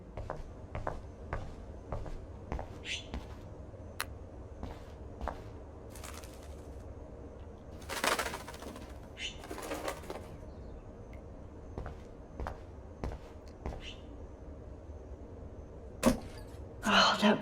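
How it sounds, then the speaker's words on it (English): A trapped bird flaps its wings inside a room in the game Life Is Strange, with irregular bursts of fluttering and scattered soft thumps that come and go, some louder near the middle and end. "that poor little bird has been trapped in here"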